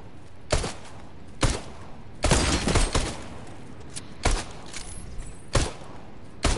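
Loud, separate bursts of gunfire ring out from a PS4 shooter game, five or six sharp cracks spaced irregularly and close up, one cluster coming as a short rapid volley, with no talking over them.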